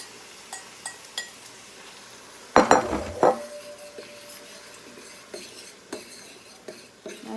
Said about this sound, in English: Okay, it looks like my eggs can go in.